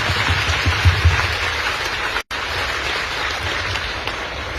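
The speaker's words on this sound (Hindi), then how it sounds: "अपने अपने लिए एक बार जबरदस्त तालियां बजाइएगा" An audience in a large hall claps in a dense, steady wash of applause, constant and fairly loud throughout, cut by one brief dropout partway through.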